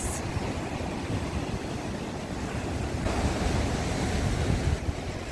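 A powerful storm at Arcadia in Odesa churns the sea, sending up a dense, continuous roar of crashing waves mixed with strong wind noise, loud and unbroken throughout.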